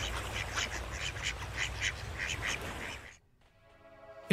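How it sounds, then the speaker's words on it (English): Ducks quack repeatedly in a rapid, overlapping chorus over a low rumble, then cut off abruptly into near silence before a brief burst at the end. "Ducks!"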